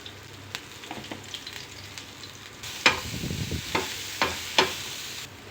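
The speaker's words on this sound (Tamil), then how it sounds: "அது கூட கொஞ்சம் உப்பு சேர்த்து நல்லா வதக்கிக்கலாம்." Beans, carrot, green chilli and onion sauté with salt in a pan, a soft steady sizzle broken by several louder scraping stirs, fairly quiet and close with no talk.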